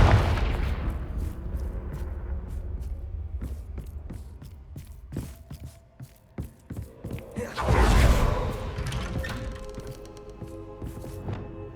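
Fiery blast bursts from a Confringo spell in Hogwarts Legacy, a loud rumbling boom swelling near the end amid a string of sharp thuds and impacts.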